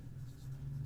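Chalk or marker writing on a classroom board during a maths lesson, a soft, faint scratching stroke lasting about a second.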